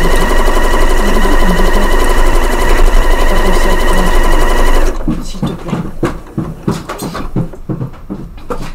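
A Janome Memory Craft 9480 computerized sewing machine stitching on its own, a loud, steady mechanical whir for about five seconds, then stopping, followed by scattered clicks and handling knocks.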